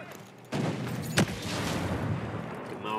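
Gunfire in the shooter game Ghost Recon Breakpoint: a burst of fairly loud shots begins abruptly and rattles on for a few seconds, with one sharper crack standing out amid the volley.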